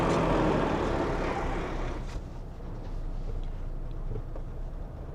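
Steady broadband road and wind roar fills the cabin of a Mahindra XUV 7XO cruising at speed, loud at first and easing slightly to a constant drone with no talking.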